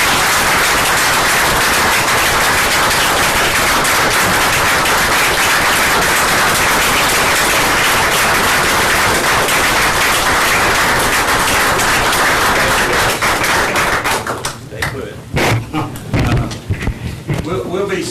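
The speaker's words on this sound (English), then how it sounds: "I would like for everyone to join in a great round of applause" Applause fills a town council meeting room, loud and unbroken for about fourteen seconds, then breaks into scattered claps and knocks as it dies away.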